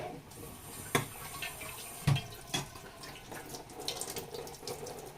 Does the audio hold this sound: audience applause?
no